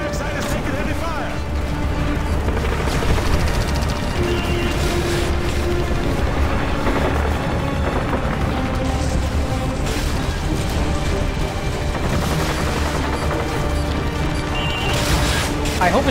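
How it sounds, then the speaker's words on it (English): Sustained battle din from Call of Duty: Modern Warfare 2 at an evac site under heavy fire, with continuous crashes, booms and thuds layered over a dense, loud background, and voices talking over it. "The evac site is taking heavy fire!"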